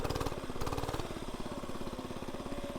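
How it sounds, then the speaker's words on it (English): A small HoverHeart kids' mini bike pops a wheelie, its little engine revving in a fast, steady putter that holds close and loud throughout with no talking. "let's do a little wheelie on the HoverHearts."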